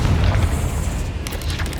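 A Bombarda spell going off in Hogwarts Legacy, a dense rumbling boom with crackling debris that stays loud and full throughout, with no talk over it.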